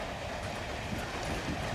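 A train rolls along its rails with a steady low rumble and faint rhythmic clatter, heard from inside the carriage at moderate level with no speech.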